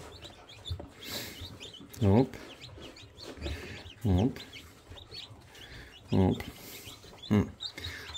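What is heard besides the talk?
chicks cheeping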